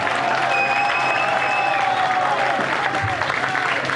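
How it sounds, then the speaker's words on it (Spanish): Crowd at a heavy metal concert applauding the band's bassist: broad, continuous clapping and cheering, with a few whistles sliding across the noise and some shouting in the crowd, loud and sustained throughout. "Quiero un aplauso muy grande para el inmortal"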